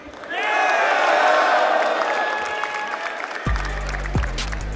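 A large crowd at a Call of Duty esports arena during the Atlanta Major semifinals between FaZe Clan and LOS, cheering and applauding loudly in a sustained roar, then an amplified voice cuts in over the fading noise.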